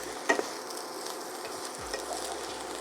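Bacon frying in a pan gives a steady, soft sizzle and crackle throughout, with a light clink of a utensil near the start and faint stirring sounds.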